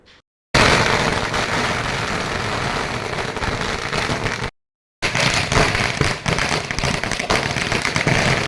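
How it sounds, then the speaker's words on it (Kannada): Firecrackers bursting at an outdoor election victory celebration, a loud dense crackling barrage that runs continuously, breaks briefly, then resumes just as intensely. "ಜಿಲ್ಲಾಧ್ಯಕ್ಷ ಮುಕ್ತಮುನಿಯಪ್ಪ ನೇತೃತ್ವದಲ್ಲಿ ಪಟಾಕಿ ಸಿಡಿಸಿ ಸಿಹಿ ಹಂಚಿ ವಿಜಯೋತ್ಸವ ಆಚರಿಸಿದರು"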